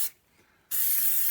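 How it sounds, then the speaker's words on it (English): Spray grease hisses from an aerosol can onto metal tools in two close bursts, a short puff, a brief pause, then a longer steady spray. "spray it all over the tools, everything I've touched"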